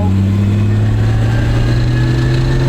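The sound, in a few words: military vehicle engine accelerating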